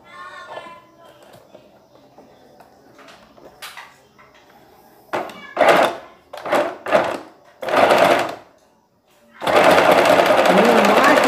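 A small, simple Eugin home sewing machine stitches fabric in several short runs, then a longer steady run, with someone talking during the quieter opening.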